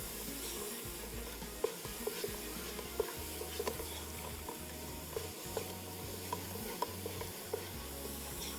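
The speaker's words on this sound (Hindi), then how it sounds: "इसको मज़ीद थोड़ा सा और भूनेंगे" Khoya halwa roasting in a pan, stirred continuously with a soft sizzle and repeated scraping strokes, close and steady with no talking.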